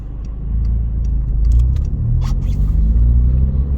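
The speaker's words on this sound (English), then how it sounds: "the exhaust blowing on this, so it sounds quite loud" A car engine with a blowing exhaust idles loud and rumbling up close, then pulls away with a steady low drone and faint clicks over the top.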